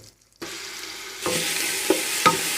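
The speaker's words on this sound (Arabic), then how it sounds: "هحط الحله بتاعتي على النار تسخن بمكعبين زبده هم، شويه زيت، بالبصله المبشوره اهي" Grated onion hits butter and oil in a hot pot: after a brief silence a loud sizzle bursts in, swells louder partway through, and is punctuated by a couple of sharp utensil knocks.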